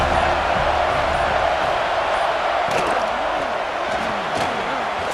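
Dense, steady roar of a football stadium crowd cheering on third down at a Peach Bowl playoff semifinal between Miami and NSU, loud and continuous throughout with faint voices and whistles rising from the mass of noise.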